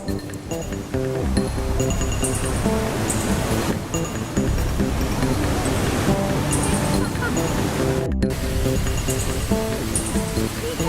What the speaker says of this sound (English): I love waterfalls.